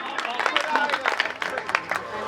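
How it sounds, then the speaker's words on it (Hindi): Live audience at a Hindi comic poetry recitation clapping steadily for about two seconds, a dense patter of many hands with scattered louder claps and a faint murmur of crowd noise. "एक बार ताली बजाइए अगर ऐसा सुनना चाहते हैं"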